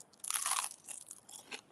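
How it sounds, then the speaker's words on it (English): Close, crisp crunching of someone biting into crunchy homemade special toast, one loud bite followed by several shorter chewing crunches, with no talk. "I have to have some of this special toast that Peter made me, but it feels like it's going to be really crunchy"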